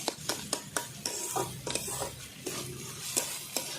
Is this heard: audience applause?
no